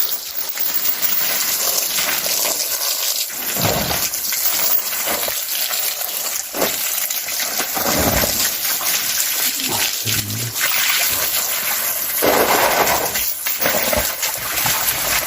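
A dog shakes itself dry after a bath at home, giving bursts of splashing, flapping water against steady running water and broad background noise, with a person talking at times.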